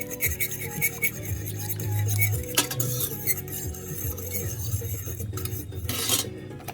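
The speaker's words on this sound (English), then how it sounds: "I'm gonna give it a stir." A utensil stirs hot and sour konjac noodle soup seasoned with a Szechuan pepper sachet, making close, busy clinks and scrapes against the bowl for several seconds with no talking.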